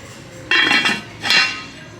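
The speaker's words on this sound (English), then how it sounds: "Oh my god, this cast iron skillet." Cast iron skillet being handled in a store, giving two clanking metallic knocks and scrapes, close and fairly loud against quiet background.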